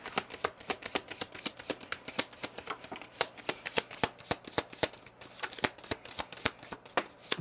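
Oracle cards being shuffled by hand, a quick run of crisp, close slapping and riffling snaps repeating in an irregular rhythm with no talking.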